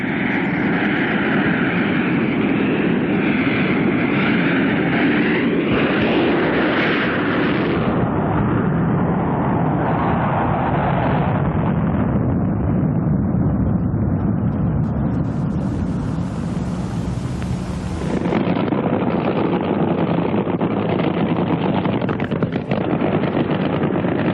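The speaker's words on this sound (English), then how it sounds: "the jet-powered monsters of drag racing, threaten to break a 350-mile-per-hour barrier" Jet-powered drag racing cars roar with loud, sustained broadband thunder that swells and shifts in pitch, with a sharp rising whoosh before it cuts back to a harsh continuous blast.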